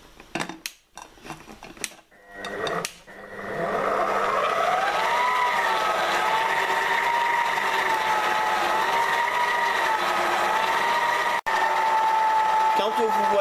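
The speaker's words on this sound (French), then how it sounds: "Je vous conseille de mixer à petite vitesse pour que la pâte et tous les ingrédients puissent s'intégrer." An electric mixer beats lemon meringue tart dough at speed 3, starting after some clatter and then holding a steady, loud motor whine with a slightly wavering pitch. A voice talks briefly before the motor starts.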